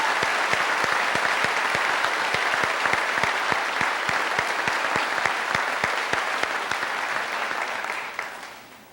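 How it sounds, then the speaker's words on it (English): Audience applause at a high school graduation ceremony honoring a Kansas Teacher of the Year nominee, dense even clapping from a large crowd held for several seconds before fading out at the end. "Toni, would you please stand and accept our applause"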